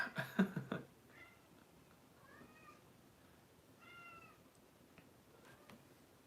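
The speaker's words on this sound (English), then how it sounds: "My kitty cats is playing right now." Pet cats meowing as they play indoors: a loud burst of several quick, close meows at the start, followed by softer, spaced meows and chirps through the rest.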